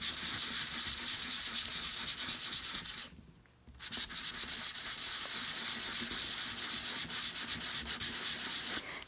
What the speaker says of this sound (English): And I'm just going to sand